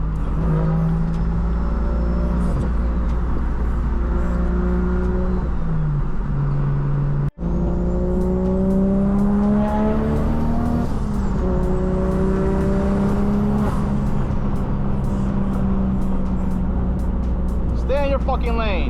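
A fully tuned single-turbo BMW F80 M3 engine revs and accelerates repeatedly, its pitch climbing through gear changes, loud and close, with a brief cut partway through.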